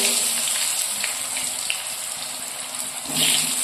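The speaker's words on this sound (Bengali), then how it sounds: "কাতলা মাছের কালিয়ার জন্য আলু ভাজা হচ্ছে।" Potatoes fry in hot oil for katla fish kalia, a Bengali fish curry, giving a loud, steady, close sizzle that holds without a break and swells briefly near the end, with no talking.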